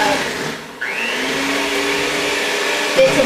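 A mixer whirs steadily, beating cream cheese icing for a carrot cake, loud and close, its pitch rising as it speeds up early on and holding a constant drone to the end.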